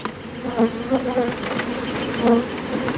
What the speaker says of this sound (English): That's a big old bucket of bees.